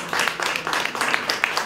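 Audience clapping for an artist at an award ceremony in a gallery, a short burst of scattered, fairly close handclaps with uneven rhythm.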